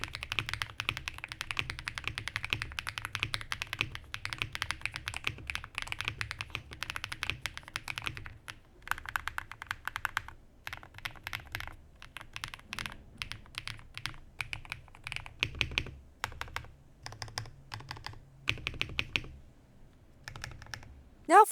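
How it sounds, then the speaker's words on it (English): Fast typing clatters on a Redragon K743 PRO TKL mechanical keyboard with linear switches, dense bursts of close, crisp keystrokes with brief pauses, no voices. "Let's do a typing test."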